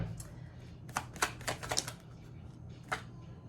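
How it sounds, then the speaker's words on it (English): Tarot cards drawn from a deck and laid down on a table: a few soft, quick papery slaps and flicks close up, in short bursts with quiet gaps. "Let's get a couple more cards out."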